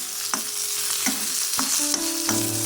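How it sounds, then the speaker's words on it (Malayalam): Dried red chilies fry in oil with a constant, close sizzling hiss, punctuated by several sharp crackles and stirring clicks at irregular intervals. "അത് എണ്ണയിലേക്ക് നമുക്ക് വറ്റൽമുളക് കൂടി ഇട്ട് കൊടുത്ത്"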